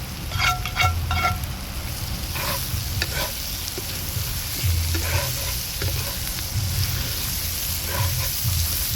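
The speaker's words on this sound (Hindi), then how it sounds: "साथ ही मैं भिंडियाँ डाल दूँगी ताकि इसमें पक जाएंगी।" Okra sizzles steadily as it fries with chili and garam masala in a pan, with close scraping and clinking of a spoon stirring through the hiss.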